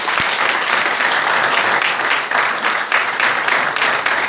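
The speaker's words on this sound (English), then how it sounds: "Put your hands together for the Lord." A church congregation claps for the Lord during a Sunday service, with loud, dense applause running continuously with slight swells.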